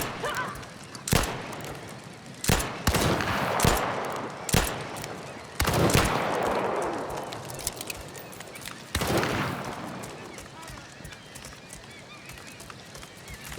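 Sharp, loud gunshots from a pistol and rifle in the video game Lost Rift, fired singly and in quick pairs at irregular intervals, each with a ringing decay over background ambience.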